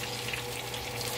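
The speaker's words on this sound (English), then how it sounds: "look at that sizzle" Steady, even crackling hiss of a 3-pound tomahawk steak sizzling on a hot grill, constant and close with no pauses.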